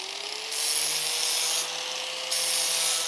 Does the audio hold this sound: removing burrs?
yes